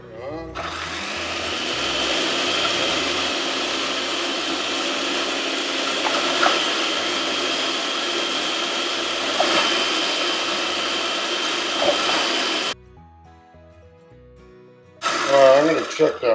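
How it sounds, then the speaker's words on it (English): An electric food processor grating cauliflower florets into rice, a loud steady motor whir running close for about twelve seconds, then stopping before a short burst of clatter, with a voice speaking briefly. "I find it faster with this I don't know what it's called, electric grater or food processor."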